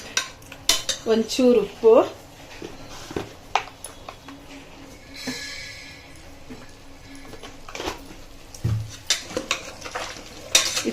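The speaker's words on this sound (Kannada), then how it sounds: "ಈಗ ಇದೊಂದು ಸಲ ಮಿಕ್ಸ್ ಮಾಡ್ಕೊಬಿಡ್ತೀನಿ" Spices for a village-style mutton head sambar being stirred in a pot with a metal spoon, a series of close scraping clinks and knocks against the vessel over low background hiss, with someone briefly speaking near the start.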